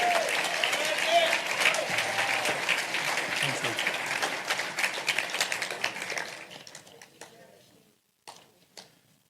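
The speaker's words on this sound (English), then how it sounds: "Let's give him a round of applause." Audience applause at a livestreamed Chefs' Feast benefit for the Lowcountry Food Bank, a dense burst of clapping that swells, then thins and fades after about six seconds, leaving a few scattered claps.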